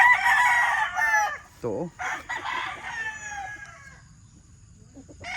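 Gamecock stags crowing and clucking in a Filipino selection pen, a strong nearby crow up front followed by softer calls, with someone talking briefly over the birds.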